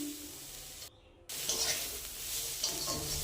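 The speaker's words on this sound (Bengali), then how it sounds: "তারপর আমি পেঁয়াজ বাটা আর কাঁচা লঙ্কা বাটা দিয়ে দিলাম, দিয়ে ভালো করে নাড়িয়ে নিচ্ছি।" Onion paste and green chili paste frying and being stirred in a pan, a steady close sizzle with scraping stir strokes and a brief silent gap partway.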